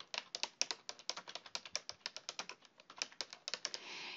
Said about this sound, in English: In the subject line, you're going to type the name.